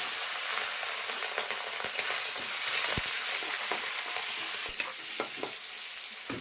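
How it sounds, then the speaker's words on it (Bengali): Prawns fry in hot oil in a wok, a loud continuous sizzle and crackle close up, punctuated by occasional sharp taps and pops of the utensil. "তেল গরম হয়ে গেছে, আমি চিংড়ি মাছগুলো ছেড়ে দিচ্ছি।"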